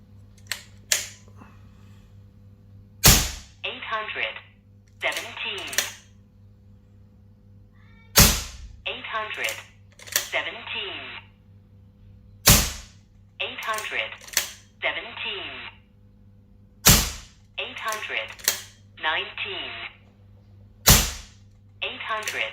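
Daystate Redwolf .25 HP air rifle firing 33.95 grain King Heavy Mark 2 pellets, five sharp, loud cracks spaced about every four to five seconds, each followed by a brief clatter and ringing between shots over a steady low hum.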